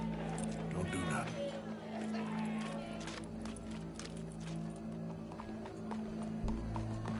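Horse hooves clop steadily on the ground in Red Dead Redemption 2, a rhythmic gait running beneath voices and background game ambience.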